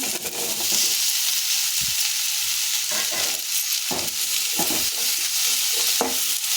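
Potatoes and tomatoes sizzle and fry in a pan while being stirred, a constant hiss broken by repeated scraping strokes of the spoon at an uneven rhythm, close and loud.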